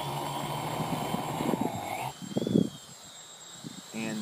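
A roof-inspection quadcopter drone hovers in altitude-hold mode, its rotors giving a thin high whine that shifts in pitch alongside bursts of nearer rustling noise before dropping quieter, then returning.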